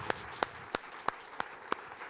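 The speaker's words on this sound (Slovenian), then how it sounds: "Gremo na aplavz." A handful of sparse, separate claps sound faintly from a small studio audience, welcoming a guest onto a talk show.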